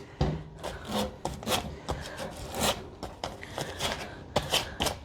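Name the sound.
scrubbing rust off metal parts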